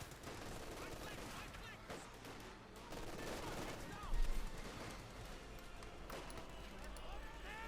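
Machine gun fire crackles through a Company of Heroes 2 battle between Wehrmacht and US Forces. Faint, scattered bursts sit under constant commentary, with a duller thump partway through.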